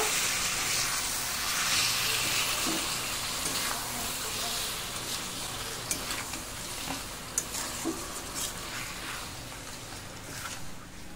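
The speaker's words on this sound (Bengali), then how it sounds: "চিনি দিয়ে খুব ভালো করে নেড়ে নেব" Sugar being stirred into a raw mango jelly pickle in a pan, a soft steady sizzle and hiss with scattered light scraping clicks of the spoon, no talking.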